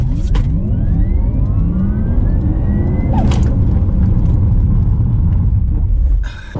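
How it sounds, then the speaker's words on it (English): A BMW iX3 electric SUV from 2022 plays its artificial drive sound while moving, a loud continuous synthetic hum with rising tonal sweeps over road rumble. Near the end a brief rattling burst is heard, then the level drops. "It's what BMW call iconic sound."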